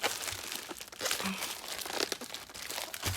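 Paper packaging from a Temu and Amazon shopping haul crinkles and crunches while being unpacked, a steady run of close, loud rustling bursts with no talking.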